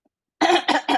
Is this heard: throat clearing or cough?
yes